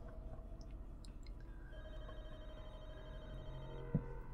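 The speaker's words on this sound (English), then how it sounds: "Oh, phone's ringing." A telephone ringing in The Walking Dead: Michonne video game, a faint electronic ring with short repeated tones over a low game ambience, with a small knock near the end.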